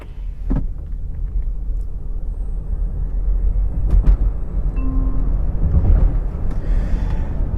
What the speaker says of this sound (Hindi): so we are in D, race mode is on, full throttle